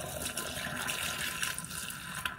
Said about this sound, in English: take your antifreeze and pour a little bit into the traps of all your sinks and shower